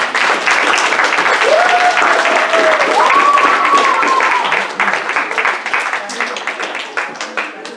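A church congregation at a White Sunday morning service breaks into loud, dense applause that holds steady before thinning into scattered claps, with a voice rising briefly over it.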